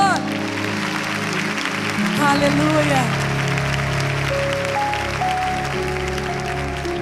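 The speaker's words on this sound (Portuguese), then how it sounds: "Você pode aplaudir o bom pastor?" A church audience applauds the good shepherd at a sermon event, a dense wash of clapping running steadily under sustained organ-like music, with a voice calling out over it.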